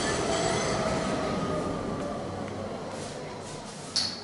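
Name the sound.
tram passing by outside the apartment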